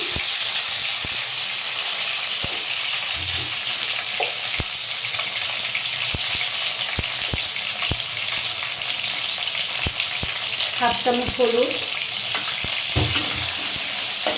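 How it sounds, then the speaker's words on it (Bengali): Potatoes fry steadily in a hot pan with salt and turmeric, a continuous close sizzle with stirring, while a voice briefly speaks over the cooking near the end. "আমি সুন্দর করে আলুটা একটু ভিজিয়ে করে ভেজে নেব।"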